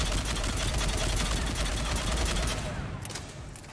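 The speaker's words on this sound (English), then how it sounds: "God bless machine gun." Rapid automatic gunfire from a machine gun in the video game Mass Effect 3, a dense continuous burst that stays loud and steady, then thins out and fades near the end.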